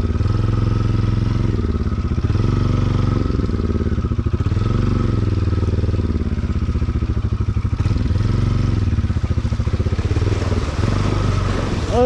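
A motorcycle on a short ride to Chandeshwari gives a close, continuous engine drone whose pitch rises and falls with the throttle, with light clatter and no talk.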